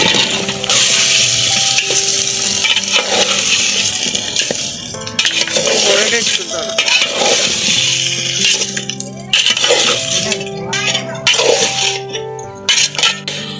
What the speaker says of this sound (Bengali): মশলাটা ভালোভাবে কষাই নিয়েছি। এবার আলুগুলো দিয়ে দিই।